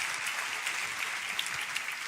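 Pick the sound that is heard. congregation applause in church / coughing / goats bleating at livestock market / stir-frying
congregation applause in church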